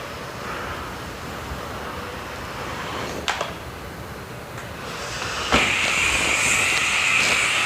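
A Bissell PowerFresh steam mop hisses steadily over tile grout, with a couple of sharp clicks and a jump to louder, fuller steam partway through.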